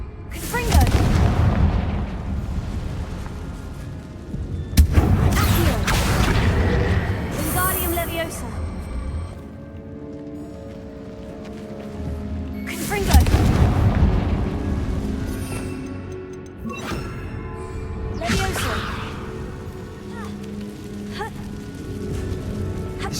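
A Confringo blast curse going off in Hogwarts Legacy, several heavy booming explosions with long rumbling tails spread across the stretch, mixed with game music and character dialogue.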